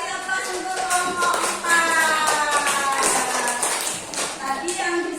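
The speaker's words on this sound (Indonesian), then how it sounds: "kasih aplaus untuk kelompok" Applause for a student group during a classroom session in a teacher-training program: dense, steady clapping from a room of people, with voices talking over it throughout.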